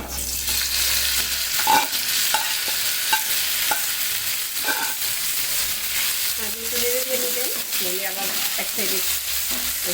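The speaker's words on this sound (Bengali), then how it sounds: "এখন একদম আস্তে আস্তে সুন্দর মতন ভাজা করে নিতে হবে" Cooked meat is stir-fried in a pan with chilies for a potato and meat curry, giving a loud continuous sizzle broken by scraping and clanking spatula strokes, close up and without talk.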